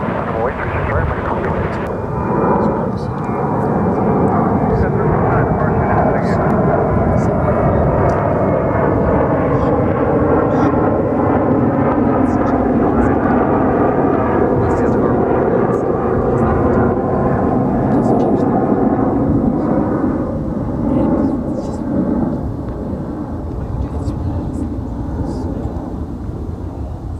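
An American Airlines airplane takes off from runway 36 right at Dallas-Fort Worth airport with a loud, sustained jet roar that builds and holds, heard from outside. Speech runs over the engine noise throughout.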